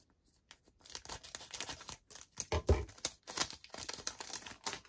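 A Pokémon card booster pack from the 151 set is torn open by hand, with crisp crinkling foil and ripping in quick, uneven bursts, close and clear with no talk.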